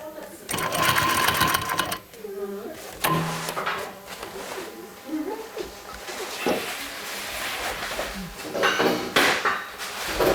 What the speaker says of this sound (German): Anschließend näht sie den Sturz mit der Maschine ordentlich zu.